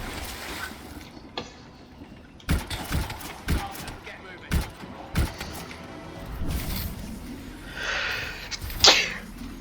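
Several sneezes from a person playing Anthem, spaced as sharp bursts near the mic over faint game sounds, with a louder burst toward the end.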